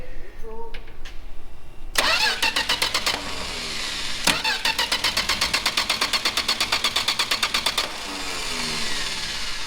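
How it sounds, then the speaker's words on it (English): A 1967 Plymouth four-door engine cranks over with the coil wire off, so it never fires: two bursts of steady, rapid rhythmic starter churning, close and loud, with a short pause between them. "if you want to give her a crank, I've got the coil wire off there."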